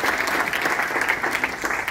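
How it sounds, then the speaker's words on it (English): Dense, steady applause from a conference audience at a clean-buses event, a continuous loud patter of many hands clapping with no gaps. "Applause for you."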